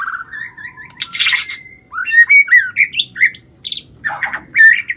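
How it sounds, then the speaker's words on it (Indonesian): A Murai Lampung white-rumped shama sings nearby in loud, rapid bursts of varied whistles, chirps and harsh squawks, with no other sounds around it. "Murai Lampung juga termasuk jenis murai yang biasa dilombakan karena selain memiliki suara yang lantang, staminanya pun tinggi."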